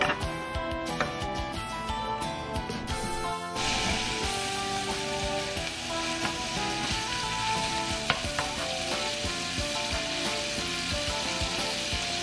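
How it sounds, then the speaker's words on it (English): Bacon frying in a pan crackles and pops steadily, a dense rain-like sizzle with scattered sharp spits. A brief stretch of music sits over it at the start, then the frying continues alone. "So let's put the bacon. Let's cook our bacon."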